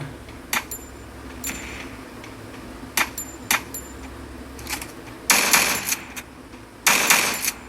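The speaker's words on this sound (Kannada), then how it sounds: "ಅದಕ್ಕೊಂದು ಹೊಸ ಗನ್ ಬಿಟ್ಟವ್ರೆ ನೋಡಿ. ಹೊಡಿತೀನಿ ಇವಾಗ." A new gun from the OB51 update of the Free Fire video game fires in sharp single shots and short bursts, spaced out at first, then two louder rapid volleys near the end.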